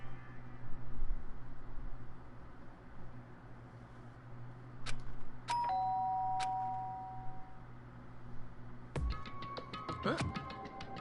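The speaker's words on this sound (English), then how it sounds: "did I hear the doorbell?" A doorbell in the video game Danganronpa, a few bright electronic chimes ringing out over a low steady background hum, followed by a denser cluster of tones.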